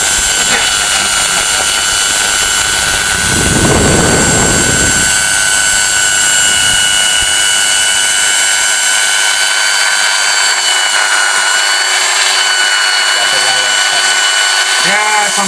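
An electric ginger-processing machine at a night street stall, used in place of a mixer, grinds with a strong whine and steady tonal drone. A burst of harsher grinding comes near the start, and people talk over it.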